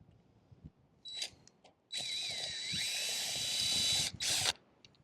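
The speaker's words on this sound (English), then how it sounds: "and you just drill the hole" A power drill whirs in a short burst while drilling pilot holes into a roof rafter, then runs steadily for about two seconds before a final brief spin and quiet handling noises.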